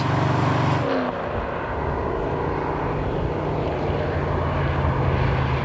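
A Shelby Cobra roadster with a lightweight build and a V8 of over 400 hp, its engine droning steadily and loudly throughout, with a brief deeper burst at the start before settling into a sustained rumble.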